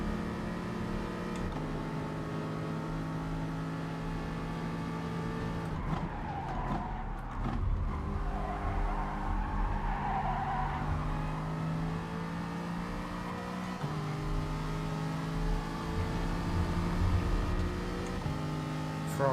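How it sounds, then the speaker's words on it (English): Race car engines in GT Sport, including a Ferrari, drone steadily with a constant high pitch, shifting through the gears now and then, with no talk over them. "Ferrari sounds great."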